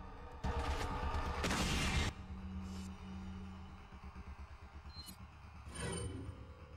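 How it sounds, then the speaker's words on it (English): A flashbang grenade goes off in the original GameCube Resident Evil 4, a loud broad burst that rings for over a second before cutting away to quieter game ambience with faint tones and a few later soft noises. "Alright, flashbang time."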